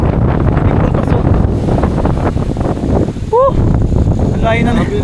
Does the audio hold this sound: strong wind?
yes